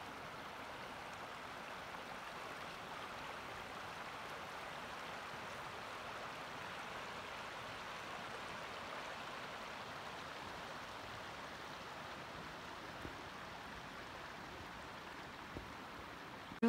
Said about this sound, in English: You can hear the rapids there. There's a waterfall that I'm going around